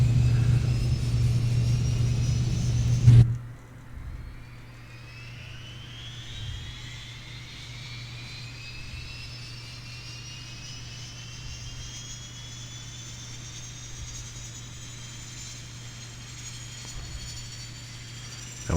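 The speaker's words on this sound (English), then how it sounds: "And then we'll go for starting the right engine." A Shorts 360 turboprop engine starts up in a flight simulator, with a brief loud burst giving way to a steady rising whine and low rumble that builds and sustains throughout.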